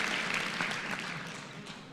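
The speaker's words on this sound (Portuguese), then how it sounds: "Uma salva de palmas para ele." Audience applause at a motivational talk, a brief burst of steady clapping at moderate distance that gradually fades.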